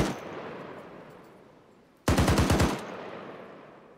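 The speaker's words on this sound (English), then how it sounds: "I'm shooting him." A loud burst of machine gun fire from Arma 3, roughly half a second of rapid evenly spaced shots, breaks abruptly out of a quiet background and then gives way to a low ambient hum.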